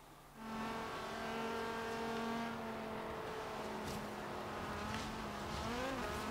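A car engine revs hard during a race in Forza Horizon 3. It holds a steady drone with rising and falling pitch as gears change, close and loud throughout, with a faint tire squeal.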